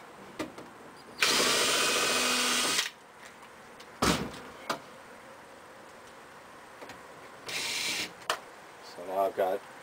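A power drill drives screws into a metal bottle rack in short whirring bursts of a second or two, with clanks and handling noises between them in a quiet room.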